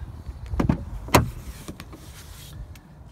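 Electric windows on a car with four power windows, a few short whirring motor runs with clicks and thumps as they stop, close and fairly quiet.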